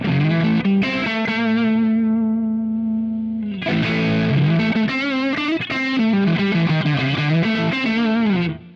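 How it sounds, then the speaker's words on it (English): An electric guitar through a Revival Drive Compact overdrive pedal rings out sustained chords, pauses on a held note, then plays gritty, crunchy riffs with bends, loud and close. "It is an absolutely stellar overdrive pedal."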